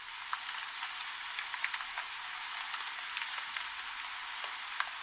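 Rain falls at night as a steady, faint hiss of drops on surfaces, with occasional slightly louder drips and no voices.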